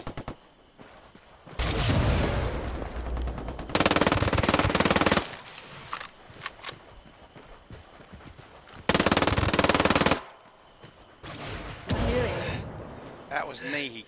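Machine gun fire from the Ghost Recon Wildlands video game rattles in several sustained, loud bursts lasting a second or more each, separated by quieter gaps where people talk.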